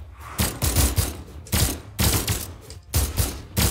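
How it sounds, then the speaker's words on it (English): Gunfire from the fighting video game Brawlhalla: loud, close bursts of rapid shots in about six separate volleys, each a brief rattling cluster with short pauses between. "It's a gun battle right now"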